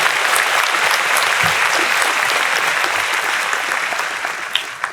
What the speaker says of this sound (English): all of our veterans one more round of applause